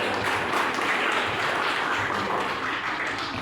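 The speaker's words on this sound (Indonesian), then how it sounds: "Tepuk tangan dong, tepuk tangan dong." A classroom of students applauding after a question is answered, a dense, steady wash of many hands clapping close by throughout the few seconds, with no speech over it.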